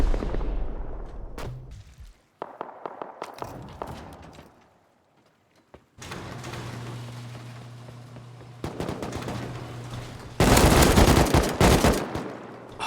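Heavy rocket explosions and rapid gunfire-like blasts from a raid in the video game Rust, arriving in loud bursts with short gaps, a sustained rumbling stretch, and a final dense barrage at close range.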